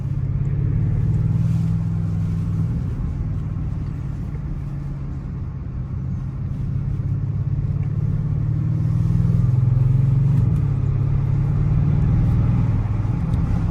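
A new Audi RS6 engine heard from inside while driving, a steady, muffled low rumble that swells slightly as the car pulls, continuous and fairly loud with no talking.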